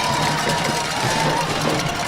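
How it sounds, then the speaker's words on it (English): A high school football crowd roars after a 72-yard touchdown pass at Parkview versus Bryant, a steady dense wash of cheering, near and loud, holding through the whole stretch. "Listen to this crowd."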